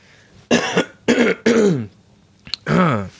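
Four harsh, hacking coughs from a person recovering from a cold, close and loud, spaced irregularly with short pauses and a small throat catch before the last one.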